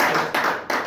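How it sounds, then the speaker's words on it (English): An audience at a network marketing event claps for Zenith, a loud, close burst of many hands clapping with two brief dips in the sound. "Please can we clap for Zenith?"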